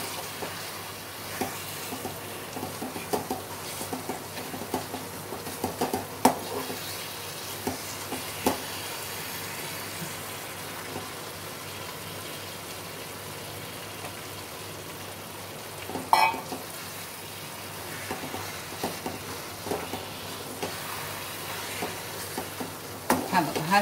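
Khoa being stirred into beetroot halwa in a pan, a continuous soft scraping and shuffling of a spoon through the thick mixture with a faint low sizzle underneath, fairly quiet and alone throughout.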